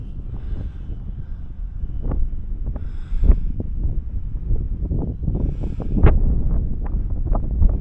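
Strong gusty wind buffets the microphone outdoors on a windy day while a remote-control plane is flown, producing a continuous low roar with sharp thumps and a faint higher whine in the background.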